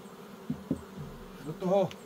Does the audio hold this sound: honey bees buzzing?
yes